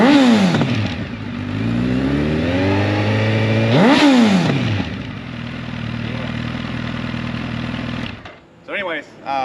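A 2014 Suzuki Hayabusa motorcycle with upgrades revs close by, its engine climbing in two sharp throttle blips before settling into a steady high idle, then cutting low as a short burst of talk follows.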